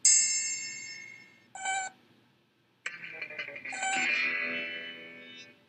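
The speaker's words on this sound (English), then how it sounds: "When you hit the triangle, the metal vibrates and pushes the air around it back and forth." A metal triangle struck several times, each hit ringing out in bright sustained tones that fade, with short gaps of silence between strikes.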